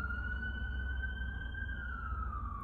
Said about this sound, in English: Pardon the sirens. I should have closed my window before filming this,